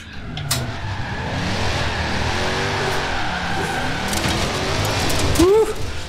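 A car drifts in the racing game Forza Horizon 4, its engine droning loudly and steadily with revving and a brief tyre squeal near the end.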